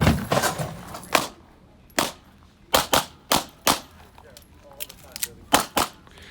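Gunshots ring out during a practical shooting match stage: a rapid opening burst, then a handful of single sharp cracks and quick pairs spaced across the stretch, loud and close, with a pause for a standing reload.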